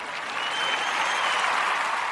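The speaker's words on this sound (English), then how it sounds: "Ooh, applause, please." Steady, close applause from an audience celebrating a company's 100th job placement, a dense even wash of clapping that holds at full strength throughout.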